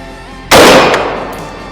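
A single rifle shot fires at an outdoor range, one sharp, very loud crack close by, followed by a ringing tail that fades over about a second.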